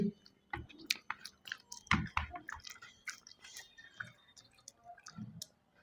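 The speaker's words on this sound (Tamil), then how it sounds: "வேகமாக சாப்பிடு" Someone eats fast during an eating contest, giving close, wet, irregular chewing and smacking with little clicks, quick and uneven, and no clear talk.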